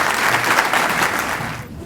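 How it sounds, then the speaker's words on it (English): A crowd at an awards evening claps steadily for school winners, dense and even throughout, tapering slightly at the end. "Let's give all of our school winners another round of applause."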